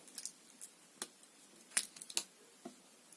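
The small scissors of a Victorinox Classic SD pocket knife snip several times in quiet surroundings, producing sharp, faint metallic clicks spaced irregularly, a few of them louder and crisper than the rest.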